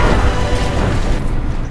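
A loud, roaring explosion from the action film Mad Max: Fury Road, a dense continuous blast of rumbling noise that stays heavy throughout and fades slightly at the end.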